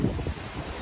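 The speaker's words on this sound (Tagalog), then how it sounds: "Sobrang lakas ng hangin." Strong wind buffeting the microphone, a low rumbling roar with gusty swells throughout.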